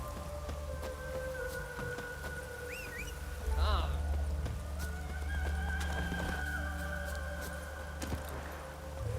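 Roach, a horse in The Witcher 3, gallops with steady clip-clop hoofbeats under game ambience and a short whinny partway through, while a person speaks at times over the action.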